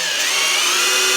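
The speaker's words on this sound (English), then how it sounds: "My battery just quit on my drill." A cordless drill whines continuously at high speed during work on a 1965 Ford Mustang, loud and close and steady for about a second with no pauses.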